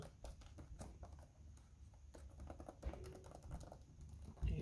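Rapid clicking of keys on a laptop keyboard, irregular taps and bursts of typing, close up with a faint background hum.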